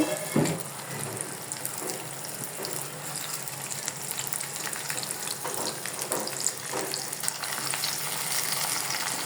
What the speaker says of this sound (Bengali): সরিষার তেল দিয়ে ফোড়ন দিচ্ছি আমি রসুন পেঁয়াজ দিয়ে